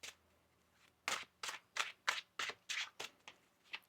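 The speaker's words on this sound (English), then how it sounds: "One more shuffle here." A deck of tarot cards is shuffled in about nine quick, crisp riffling bursts at a fairly even rhythm, quiet and close, with short silences between them and no voices.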